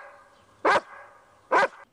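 A pet dog barks twice, two short, fairly faint barks separated by a quiet gap of almost a second.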